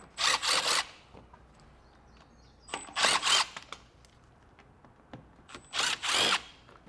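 A power driver whirs in three separate short bursts while removing T15 Torx screws from under the front of a 2024 GMC truck. The runs are close and loud, with quiet pauses between them.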